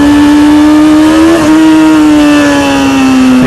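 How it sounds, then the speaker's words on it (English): A motorcycle engine holds a high steady rev while the clutch slips, a loud close drone that dips briefly before carrying on and sliding slightly lower in pitch. "It's just a slip of the clutch."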